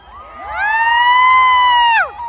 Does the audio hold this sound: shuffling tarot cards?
no